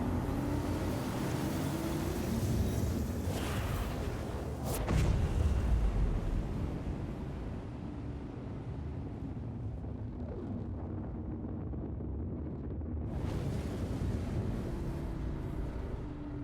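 Star Citizen spacecraft engaging its quantum travel drive: a sustained loud roaring rumble with a sharp surge and boom near the middle, then a continuing whooshing drone.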